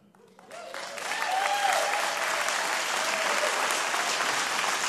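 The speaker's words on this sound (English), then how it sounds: "Your claps are very nice" Audience applause swells in after a quiet start and holds steady as a loud, dense wash of clapping from a crowd.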